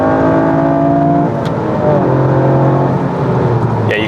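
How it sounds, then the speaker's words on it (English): Cabin view of a GR Yaris with an HKS Super Turbo Muffler exhaust, its engine droning loudly and steadily as revs rise and fall under acceleration in third gear, with no talking. "notice the big differences in the exhaust noise in the cabin"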